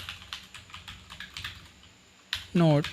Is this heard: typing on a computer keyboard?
yes